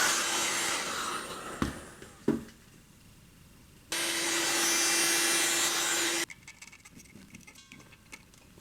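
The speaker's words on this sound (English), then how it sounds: "I think I'll just try to heat up the end to make it soft" A handheld torch heats the end of a gas hose to soften it, giving a steady loud roaring hiss for about two seconds in the middle, with quieter rustling and handling knocks before and after.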